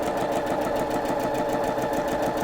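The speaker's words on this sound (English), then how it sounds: "This is a model sewing machine that I have here in the studio." A sewing machine runs slowly while stitching over pins to make a hair scrunchie, giving a steady, even mechanical whirr with a soft rhythmic pulse throughout.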